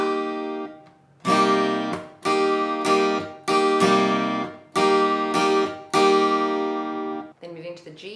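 An acoustic-style guitar strummed in a down, mute, up, mute, up pattern, with loud ringing chords broken by sharp muted chops in a steady repeating rhythm, then a looser strum at the end.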